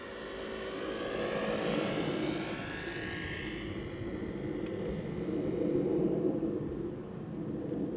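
Jet airliner engines roaring as planes arrive at Amsterdam Schiphol Airport, with an Icelandair heavy jet and an Embraer 190 on approach; a steady broad rumble rises and falls, moderately distant, with no talking.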